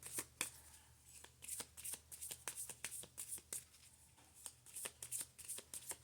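A new deck of oracle cards is shuffled by hand in quick, repeated riffles of crisp flicking and slapping bursts, close and fairly quiet.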